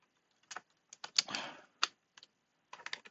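Keystrokes on a computer keyboard while editing a ChatGPT job-offer prompt: scattered clicks and short bursts of typing with pauses between, close and fairly quiet, no voices.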